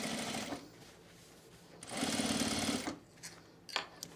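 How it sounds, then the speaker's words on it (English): A sewing machine top stitches a rear seat patch onto cargo shorts in two close bursts of rapid, even whirring stitches, with quiet gaps and a few light clicks. "All right, Beverly, I'm top stitching the rear seat patch on"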